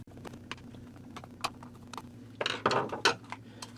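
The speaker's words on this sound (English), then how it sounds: "Let's start out by removing these 3 Phillips screws," Screwdriver work on a vintage Sears variable timer: small metallic clicks and scrapes as Phillips screws are removed, with a busier cluster of clatter near the end, close and fairly quiet.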